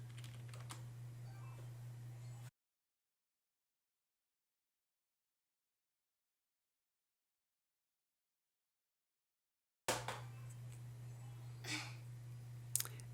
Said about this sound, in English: So I'll just type in sudo reboot.